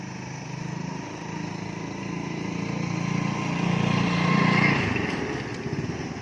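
Motorcycle engine running with a two-wheel trolley hitched behind, a steady low engine drone that swells louder toward the middle and then eases off.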